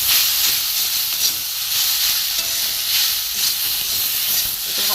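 Green pea curry with garam masala fries in a pan, giving a steady, close hiss and sizzle with no talk.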